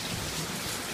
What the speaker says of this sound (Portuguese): Já esperava essa chuva?